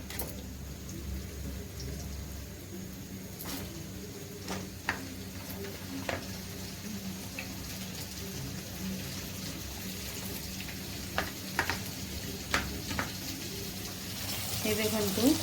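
Pointed gourd frying with onions in a pan, a steady low sizzle with occasional sharp clicks and taps of a utensil, close by, a voice speaking at times over it.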